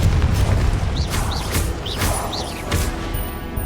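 Incendio and Confringo spells cast in the Hogwarts Legacy video game, loud magical bursts and booming fiery blasts layered with whooshing chirps over a dense, continuous game soundscape.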